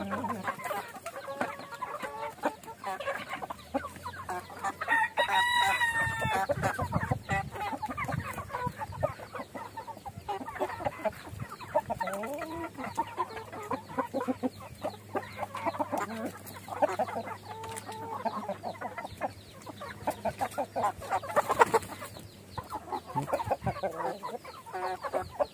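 Pure Basilan chickens cluck steadily over a long stretch, with a breeding rooster crowing once early on, all close by against a low background hum.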